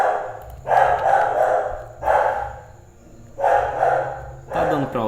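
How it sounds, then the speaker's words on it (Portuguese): A dog barks indoors in three loud, close bursts of several rapid barks each, separated by short pauses, followed by a brief yip at the end. "Tá dando pra ouvir meu cachorro latindo?"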